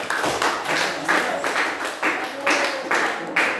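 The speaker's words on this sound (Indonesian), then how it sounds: "Oke, kita tepuk tangan untuk semua kelompok." Classroom applause for student groups, with a room of students clapping in loose rhythmic bursts, near and fairly loud, continuing throughout.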